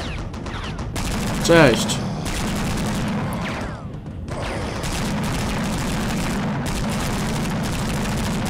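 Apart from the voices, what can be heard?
gunfire in video game Marine Heavy Gunner: Vietnam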